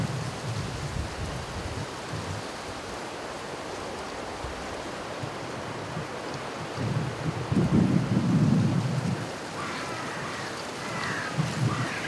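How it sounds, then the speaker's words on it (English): Strong wind buffets the microphone at a winter carp match-fishing venue, a steady roar with louder gusts surging around the middle and near the end. "Just can't get the pellet on the pile of bait when the wind is this strong."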